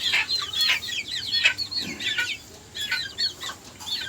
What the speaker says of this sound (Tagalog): Kapasyal na naman tayo sa ating munting manukan.